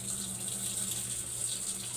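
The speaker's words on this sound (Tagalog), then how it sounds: "nagkarga na rin yung tubig" Water rushes steadily into the drum of a Sharp automatic washing machine as it fills, a constant hissing gush at moderate level with no voices over it.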